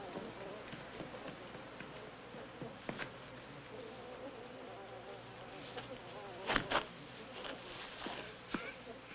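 A swarm of bees buzzing in a dramatic 1978 film scene, a steady insect drone with scattered sharp clicks and brief louder bursts, fairly quiet overall with faint background voices.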